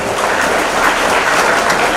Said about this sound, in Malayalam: ഒരു കയ്യടി കൊടുക്കവർക്ക്